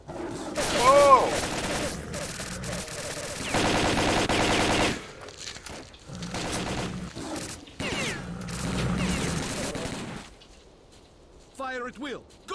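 Rapid bursts of machine-gun and rifle fire in the S.T.A.L.K.E.R.: Call of Pripyat video game, loud and near, broken by short gaps and mechanical clicks, with voices talking over parts of it.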